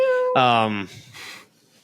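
A person imitates a cat's meow: a single drawn-out, whiny vocal meow with clear harmonics, loud and close, followed by brief breathy voice sounds.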